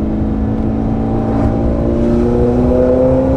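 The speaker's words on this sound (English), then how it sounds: "So do you think I just try and rev it out?" Ferrari 430 Scuderia engine held at a loud, steady high rev by the roadside, a dense continuous roar with rising tonal whine throughout, no talking.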